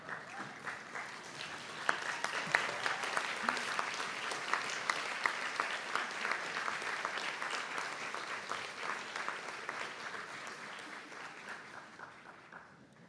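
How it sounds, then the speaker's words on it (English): An audience at a Donegal graduation conferring ceremony gives a round of applause for the supporters. Dense, steady clapping holds for most of the clip at moderate distance, then slowly tapers off near the end. "maybe give them a little round of applause"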